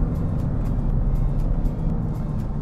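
A Kia Stinger V6 with 370 hp runs hard on a race track, its engine a loud, dense, continuous roar with little change over the short span.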